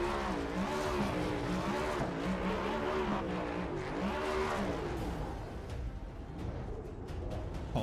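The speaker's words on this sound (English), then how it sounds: "We're going to get the donuts and the burnout." Ford Mustang race car doing donuts and a burnout, its engine revving in repeated rising and falling sweeps with tire squeal and skidding mixed in, fairly distant and steady, then fading toward the end.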